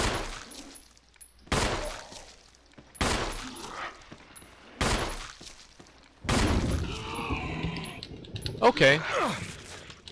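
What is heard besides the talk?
gunshots at a zombie in Resident Evil video game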